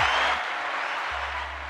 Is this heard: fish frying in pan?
no